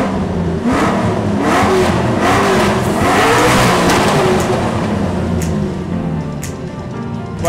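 A race car engine revs hard in the Spa Francorchamps pit lane, loud rising and falling bursts of throttle with a whirring, gravelly tone, easing off toward the end amid a few sharp clicks.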